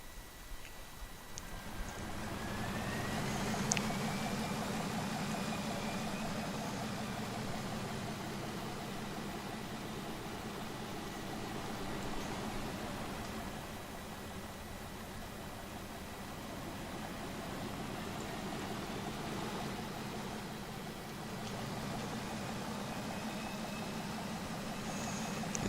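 Military supply trucks in an Arma 3 convoy idle and rumble steadily, a continuous low engine drone with a faint whine running throughout, no speech.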